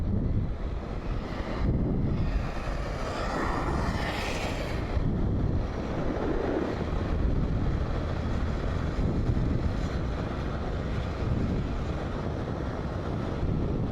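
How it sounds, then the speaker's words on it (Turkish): Steady, loud wind buffeting the microphone, a constant broadband roar with rumbling gusts throughout and no voices. "ama yine deli dehşet rüzgar alıyorsunuz"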